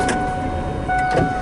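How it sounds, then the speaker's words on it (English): Car power window motor whirring steadily as the glass rolls up, with a second tonal motor run toward the end inside the idling car. "Roll the windows up."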